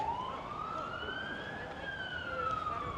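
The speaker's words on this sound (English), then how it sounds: "there's something going down in San Francisco with all the sirens today" A wailing siren rises and falls slowly in the distance, steady over a constant rumble of city traffic near Alamo Square, San Francisco.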